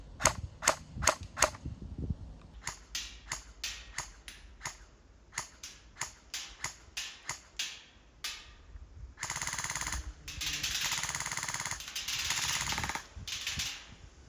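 Rapid single shots from an LCT TP5 airsoft MP5 replica, about 0.9 joules, crack out in a near, sharp series, then give way to a dense stretch of fast continuous firing.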